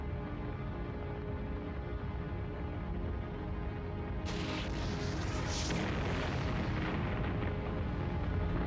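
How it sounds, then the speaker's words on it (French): Space Shuttle Challenger exploding during launch: a steady, loud low rumble that swells into a broader, harsher roar partway through, without talk. "L'explosion de la navette en direct devant des dizaines de millions de téléspectateurs"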